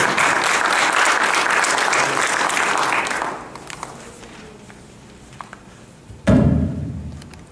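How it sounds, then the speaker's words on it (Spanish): An audience applauds a speaker at a session, with loud, dense clapping for about three seconds that fades out, a quieter stretch, then a sudden thump and a short renewed burst near the end. "le solicitamos un fuerte aplauso para nuestro ponente"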